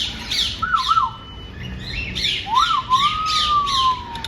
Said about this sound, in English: Turned around and this parrot started talking to me.